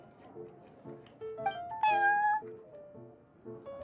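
A cat meows in Genshin Impact at the Cat's Tail tavern, a few clear, rising mews standing out over a soft, repeating game music background.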